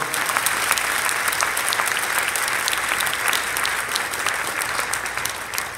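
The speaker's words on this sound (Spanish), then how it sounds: "Dale un fuerte aplauso al Señor." Church congregation gives a strong round of applause, many hands clapping in a dense, sustained burst that fades slightly toward the end.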